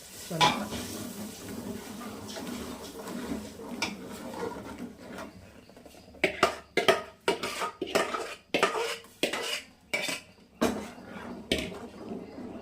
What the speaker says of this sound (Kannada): ಇದು ಎಣ್ಣೆಯಲ್ಲಿ ಒಂದು ಸ್ವಲ್ಪ ಚೆನ್ನಾಗಿ ಫ್ರೈ ಆಗಬೇಕು.